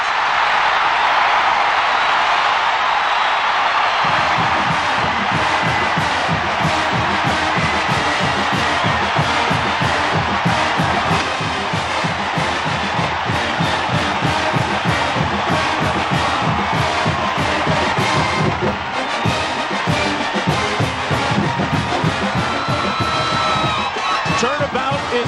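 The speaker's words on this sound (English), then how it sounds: "Spike Dykes wanted his crowd to have something to cheer about early" Stadium crowd roaring at a 1996 Nebraska vs Texas Tech college football game after an interception returned for a touchdown, a loud sustained cheer with whoops and yells, partly under talk.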